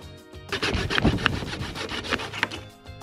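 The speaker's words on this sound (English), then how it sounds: "We cut the track to length and recreated the chamfer using a handsaw" A handsaw cuts a length of Tides Marine sail track during a sailboat refit, making rhythmic back-and-forth rasping strokes, about five close, loud pulls in a steady rhythm.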